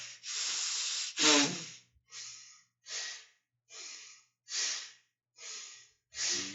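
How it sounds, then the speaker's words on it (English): Deep hissing belly breaths during a guided meditation: a long inhale and exhale, then a slow series of regular hissing breaths, each a soft airy rush separated by short silences. "Long, deep in the hissing breath."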